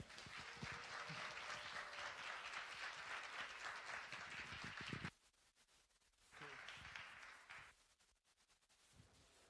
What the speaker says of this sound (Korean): 우리 나오실 때는 우리 환영의 박수로 함께 하도록 하겠습니다